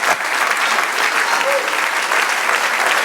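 A church congregation claps together in sustained, dense applause that fills the room evenly from start to finish.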